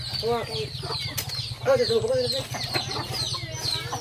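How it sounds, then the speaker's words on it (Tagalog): Chickens cluck close by, with rustling and wing flaps mixed in over a steady low hum and some background voices. "Dami ng manok."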